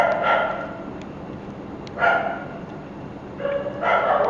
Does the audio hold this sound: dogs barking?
yes